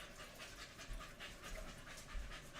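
Steady, fast dog panting, close and continuous, at a lively event with new people around, with no talk over it.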